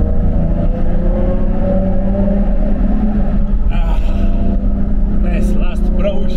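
Supra car engine revving hard in a tunnel at night, a loud echoing roar that rises and swells. Exhaust crackles come toward the end, and voices talk underneath.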